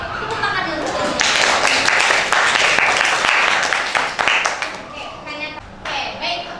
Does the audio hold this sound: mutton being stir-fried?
no